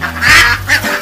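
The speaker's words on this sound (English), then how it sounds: "My aunt and uncle have ducks." Farm ducks quack close by, a couple of loud, raspy calls in quick succession filling the short moment.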